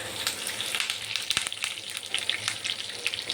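Cumin, dried red chillies, garlic, mustard seeds, fenugreek and curry leaves splutter in hot oil in a pan as a tempering for okra sambar: a dense, close crackle of sizzling with rapid small pops, heard alone.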